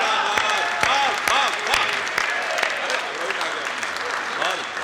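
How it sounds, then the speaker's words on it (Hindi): Scattered, soft clapping from an audience at a Hindi poetry recital, with individual claps standing out irregularly over a low murmur and a voice speaking. "आपकी ये बहुत धीमी सी तालियां मेरे लिए बड़ा सर्टिफिकेट है दीदी"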